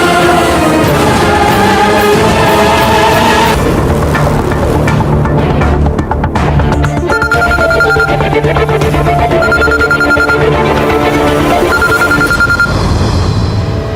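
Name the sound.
mobile phone ringing repeatedly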